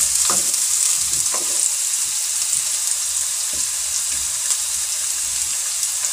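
Chopped onions lightly frying in oil for a green chickpea curry, a steady close sizzle with a few soft knocks of stirring near the start, without talk.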